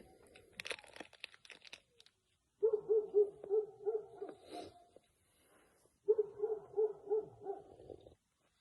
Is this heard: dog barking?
yes